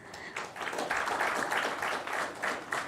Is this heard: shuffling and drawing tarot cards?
no